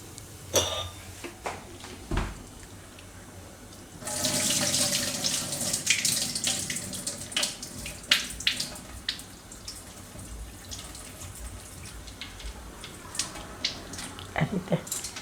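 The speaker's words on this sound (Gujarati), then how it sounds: "આમાંથી આપણે વધારાનું પાણી કાઢી નાખીશું" Excess water poured off cooking matka masala khichdi in a kitchen, heard as a rushing splash of running water into a sink that swells for several seconds, then trickles and drips with light clinks of a pot.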